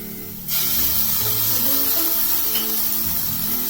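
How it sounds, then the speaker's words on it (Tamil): Ginger garlic paste hits a pan of softened onions with a sudden loud sizzle that settles into a steady, close hiss of frying. "இஞ்சி பூண்டு பேஸ்ட் சேர்த்துடலாம்."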